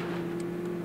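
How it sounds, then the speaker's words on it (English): A car drives by in the chaotic shooter game Totally Accurate Battlegrounds, a short steady engine hum with a faint rise at the end, heard alone. "I hear a car driving by"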